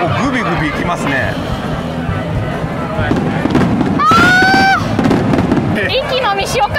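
Fireworks burst and crackle at a Japanese summer festival, with steady crowd babble and chatter throughout and a rising whistle in the middle of the display.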